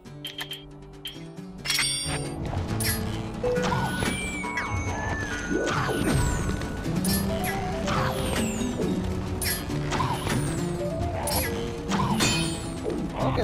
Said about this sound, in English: And just shoot the barrel there.